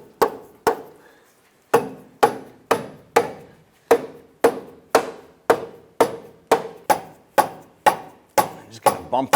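Sharp, loud knocks ring out one after another, about sixteen hits with a short pause early on, as a front lower control arm is bumped up into place on a 2015-2020 Cadillac Escalade.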